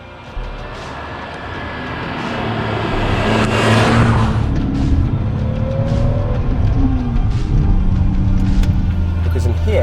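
A BMW Z3 M Coupe with a manual five-speed gearbox drives along, its engine note rising and falling through several revs at close range, with a loud swell early on and a steady drone after.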